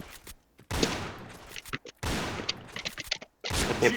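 Bursts of rapid automatic gunfire from a shooting video game come in separate loud volleys, broken by short silent gaps.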